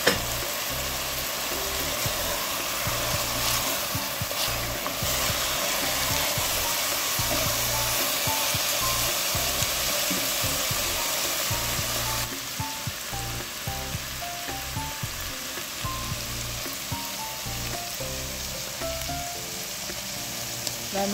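Chopped meat frying in oil for a Persian fesenjan stew, a steady loud sizzle and crackle that continues throughout with small stirring shifts partway through.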